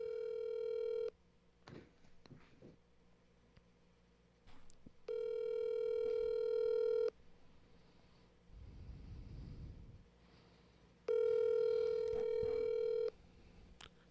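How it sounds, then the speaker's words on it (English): A telephone call rings out in three long, evenly spaced electronic ringback tones, with quiet room noise and faint rustling in the gaps between them. "I'm calling him right now"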